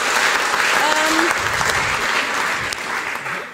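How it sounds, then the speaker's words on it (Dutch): An audience applauds at a televised Dutch parliamentary election debate on foreign affairs in 2017, producing sustained, dense clapping that stays loud throughout before thinning slightly near the end. "Applaus."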